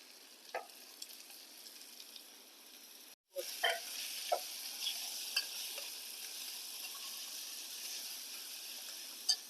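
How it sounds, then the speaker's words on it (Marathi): Pavta beans sautéed in a pan, a steady soft sizzle running throughout with a brief pause near the start and scattered clinks and scrapes of stirring. "आणि त्यातच हे पावट्याचे दाणे टाकायचे ते दाणे जरा परतून घ्यायचे थोडेसे"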